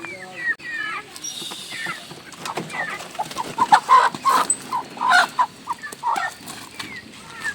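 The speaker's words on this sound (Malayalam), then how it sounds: "ആ കൂട്ടിൽ നല്ല കോഴിണ്ടല്ലോ" Several chickens cluck and squawk close by in a coop, with people talking over the birds and occasional wing flapping.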